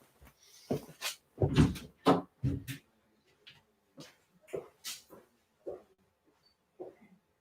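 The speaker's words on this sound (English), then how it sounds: "Now, I'm going to try and open the door, which might actually help." A door opens with a series of close knocks, clunks and rattles scattered across several seconds, irregular and fairly quiet with short pauses between.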